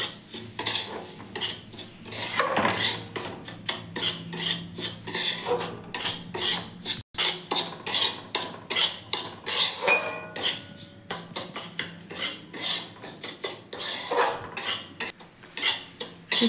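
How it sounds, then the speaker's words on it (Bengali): A spoon stirs and scrapes semolina frying in ghee in a metal pan, a steady rhythmic rasping and clinking against the pan that repeats closely and continuously without talk. "নাড়াচাড়া করে নেব।"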